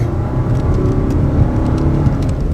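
A Renault 2.5-litre petrol engine runs at a steady idle, a low, even rumble with a faint whirring layer on top, close up and continuous with no voices.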